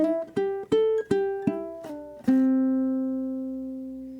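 Ukulele plucks a bar of a song, about eight quick eighth notes with a short slide, the last note ringing out and fading, close and clear with no talking.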